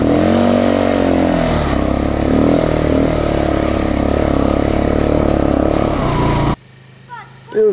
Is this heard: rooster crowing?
no